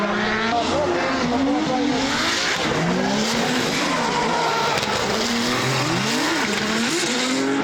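A drift car slides off track during a competition run, its engine wailing and revving hard with continuous tire squeal throughout, loud and close.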